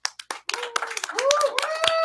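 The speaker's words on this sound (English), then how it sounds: "So let's make sure that we give a good round of applause for Noah." Scattered clapping from an audience at a live comedy, magic and music awards show, a few separate claps that build into fuller applause, with a tonal sliding sound and voices mixed in underneath.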